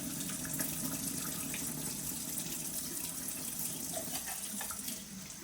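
Tap water runs steadily into a sink, rinsing starch from food in a home kitchen without a strainer, a continuous close hiss that eases slightly near the end, with no voices.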